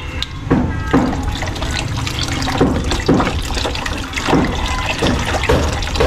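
Water is poured into a cooking pot holding a thick sugary mixture in a home kitchen, a continuous splashing, gurgling flow with irregular surges lasting several seconds, close and fairly loud.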